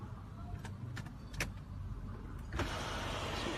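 Electric motor of a Range Rover Autobiography's large front panoramic sunroof whirring as the glass closes, a steady low hum with small clicks and a louder shift near the end, close inside the cabin.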